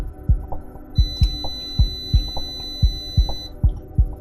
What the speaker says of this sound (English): now it's beeping every time you hydrate